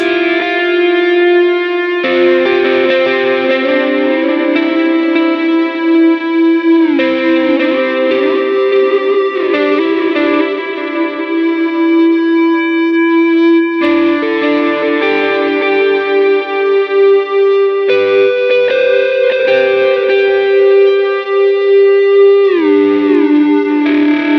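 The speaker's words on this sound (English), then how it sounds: "that's how I'm using the feedbacker effect on the Helix" Sustained, singing guitar tones from a Line 6 Helix feedbacker effect swell into controlled feedback, washed in delay and reverb, with notes shifting every few seconds over a steady loud drone.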